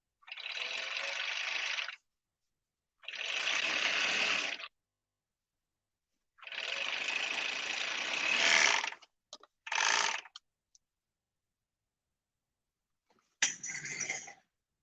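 A Juki sewing machine with its cutter engaged runs in bursts of a few seconds each, a close mechanical whirring and chattering, stopping between runs and ending with short stitches.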